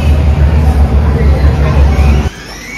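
A small amusement-park train ride rumbles along in a low, rhythmic drone under crowd chatter, then cuts out abruptly near the end, leaving quieter background noise.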